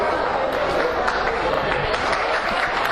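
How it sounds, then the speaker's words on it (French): Audience applause for a brass band at a dairy centenary celebration in Geneva, a steady continuous clapping from a crowd, fairly dense and even, with some chatter mixed in. "sous vos applaudissements, merci."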